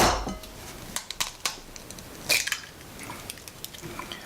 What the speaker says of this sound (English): What we're going to do at this point is to crack our eggs.